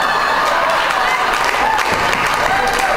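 A comedy show audience applauds a clean stand-up set, loud dense clapping and crowd noise filling the whole stretch, with some voices mixed in.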